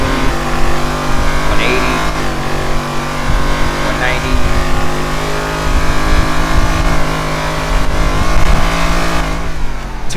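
A fully upgraded Mercedes-Maybach S680 Brabus 850 in a video game pulls hard through quick gear shifts, its loud engine drone climbing steadily while someone talks over it.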